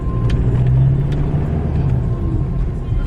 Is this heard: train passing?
no